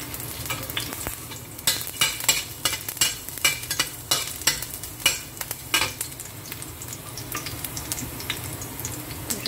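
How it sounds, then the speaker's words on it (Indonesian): Garlic sizzling in hot oil in a pan, with a steady crackling hiss and a series of sharp scraping stirs in the middle, close and fairly quiet. "ini udah panas ya minyaknya"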